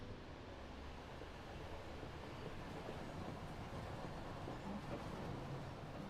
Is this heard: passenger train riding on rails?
yes